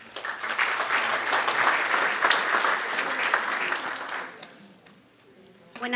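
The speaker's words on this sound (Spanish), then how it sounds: "Recibamos con un caluroso aplauso." An audience at a geoscience conference breaks into loud, sustained applause for about four seconds before it fades, and a voice follows at the end.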